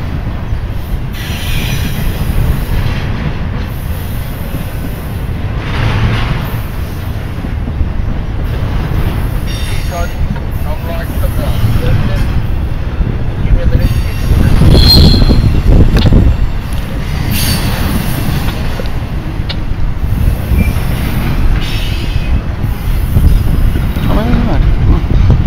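A train rumbles steadily past at Belen for the whole stretch, with high metallic wheel squeals rising repeatedly over the continuous rolling noise, loud and close.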